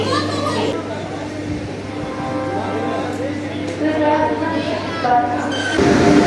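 A train rumbles into a station with a steady low drone and squealing metallic tones, while crowd chatter and children's voices fill a busy platform on a pilgrimage trip to Deoghar.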